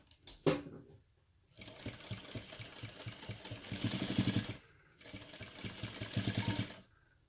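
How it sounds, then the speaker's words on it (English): A sewing machine stitches a crossbody bag panel in two steady whirring runs separated by a brief pause, a few clicks and handling noises at the start, close and moderately loud. "And here we'll just start sewing a few inches down."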